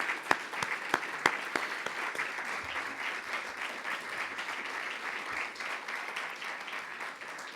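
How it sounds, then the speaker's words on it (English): Steady audience applause at a gathering marking 20 years of work to end the death penalty, a dense, even wash of clapping with a few sharper near claps early, continuing unbroken throughout with no talk over it. "Let's give a round of applause."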